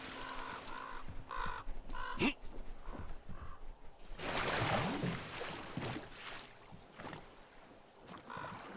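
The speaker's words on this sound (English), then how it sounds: "Hey up, bird." A crow caws in the video game Metro Exodus, with a few harsh calls near and fairly faint over a soft outdoor ambience by water. Other scattered game noises follow, with no speech.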